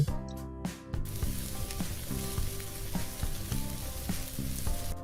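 Three dried chillies, two bay leaves and an inch of cinnamon spluttering in hot oil, a dense close sizzle with a few crackling pops and occasional utensil knocks, steady throughout and free of talk.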